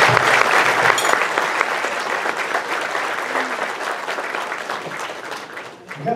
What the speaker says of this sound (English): Let's give Greg a round of applause.